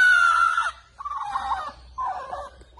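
A brooding hen clucks and squawks in three close, loud harmonic bursts as she is lifted off her nest, with no talk over her.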